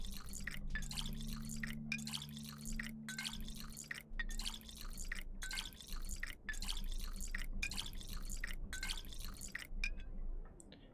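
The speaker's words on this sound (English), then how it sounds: "Grab some water while we're here." In the Pathologic 2 video game, water is collected with a continuous trickling, dripping flow that plays over a low ambient hum, fairly quiet and steady throughout.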